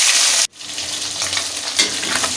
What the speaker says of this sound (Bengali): এখন মাছগুলো ভাজার জন্য আমি একটা কড়াই বসিয়ে দিয়েছি, কড়াইতে দিয়ে দিব সয়াবিন তেল